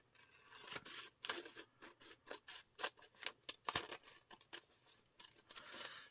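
Scissors cut paper for a quilt pattern in a rapid series of close, quiet snips and rustles, about a dozen cuts in irregular rhythm with no talking.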